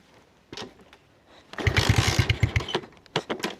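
A Trailmaster 125 dirt bike engine putters quietly, then revs into a loud, close, pulsing exhaust burst before dropping back to lighter bursts, with no talking.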